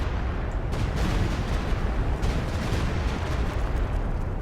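Artillery strikes in Company of Heroes 2, a dense rumbling wash of distant shell impacts and explosions that rolls on without letup.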